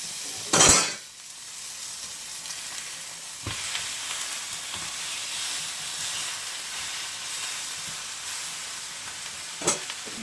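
Veal chop searing in a hot oiled grill pan, a steady close sizzle and hiss running throughout, with a loud clatter near the start and a brief knock toward the end.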